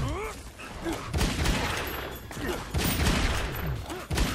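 Rapid bursts of gunfire from a character's gunshot move in Mortal Kombat ring out loud and dense, volleys following one another almost without pause in the game's mix.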